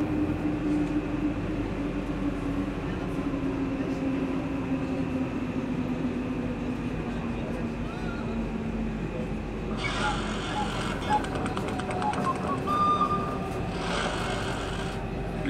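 The M2 metro in Lausanne rides along with a steady low hum and rumble, joined partway by brief bursts of high-pitched whirring and hiss, no voices over it.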